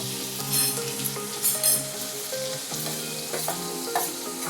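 Chopped onions and green chillies fry in hot oil in a pan, a steady close sizzle with a few brighter crackling bursts and occasional scrapes of stirring, no voices.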